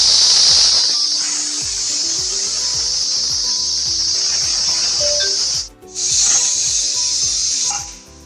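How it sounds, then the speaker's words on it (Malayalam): A pressure cooker cooking chickpeas vents its whistle as a loud, continuous hiss of steam. The hiss breaks off briefly near the end and then resumes before fading. "അപ്പം നമ്മളെ കുക്കർ വിസിലടി തുടങ്ങി"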